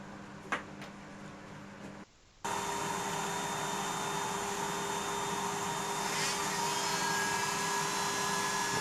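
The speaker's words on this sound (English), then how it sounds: "I'm going in with a conical tungsten carbide burr, I think they're called." Rotary tool fitted with a conical tungsten carbide burr cutting wood in a woodturning setting, a steady high-pitched whine that starts abruptly after a brief pause and runs continuously, close and fairly loud.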